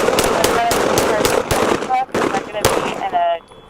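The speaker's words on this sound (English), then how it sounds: "we got 1 round, shots fired" Gunshots fired during a police bodycam encounter: sharp, loud cracking bursts repeat through the scene amid shouting voices and commotion.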